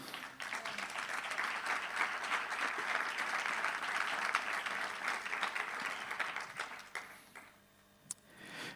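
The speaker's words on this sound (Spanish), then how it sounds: "Dale aplauso al Señor." A congregation at a church service applauds steadily for several seconds, then the clapping fades out into near quiet with a stray clap.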